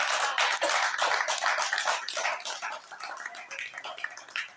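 Audience applause at a Paris political conference, a broad crackly wash of clapping that holds steady for several seconds and then eases slightly.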